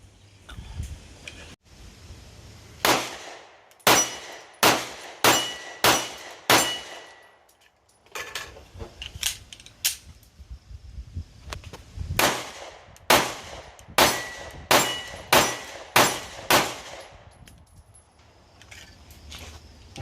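Mossberg MC1 SC pistol fired at steel targets outdoors, two strings of rapid, sharp reports with quick ringing metallic hits, loud and close, separated by a brief pause.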